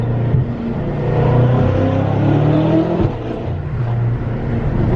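Straight-piped BMW F10 M5 exhaust rumbling loud and close, a steady low drone rising in pitch through a rev before dropping back at about three seconds and settling into a deep idle-like burble.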